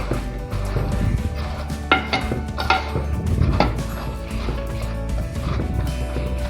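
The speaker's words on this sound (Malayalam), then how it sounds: "ഇത് നമുക്കൊന്ന് ഇളക്കി യോജിപ്പിച്ച് കൊടുക്കാം." A spoon stirs and mixes taro stem curry with a little water in a cooking pot, giving repeated light scrapes and metallic clinks over a steady kitchen background.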